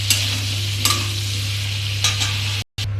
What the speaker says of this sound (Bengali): পেঁপেগুলো ভেজে নিচ্ছি।